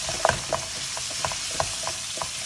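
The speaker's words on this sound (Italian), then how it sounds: "Quando la cipolla sarà leggermente dorata, mettiamo il salmone tagliato a pezzetti" Pieces of salmon fry with onion in a pan over high heat, giving a steady close sizzle broken by light clicks and taps of stirring.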